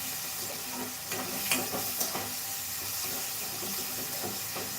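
Onion and mixed sprouted legumes frying in oil for an Indian bhaji, a steady hissing sizzle with occasional stirring clinks and spatters, heard close with no talk.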